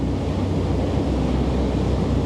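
Churning wake water splashes behind a ferry crossing Sydney Harbour, a dense continuous rush of turbulence mixed with engine rumble and wind buffeting the microphone, loud and close throughout.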